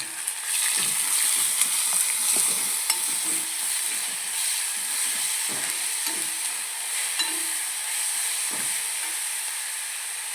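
Sliced onions sizzle and hiss in a hot pan while being stirred for a homestyle mezhukkupuratti, a constant bright frying crackle with repeated soft scrapes and knocks of the spoon, no talking.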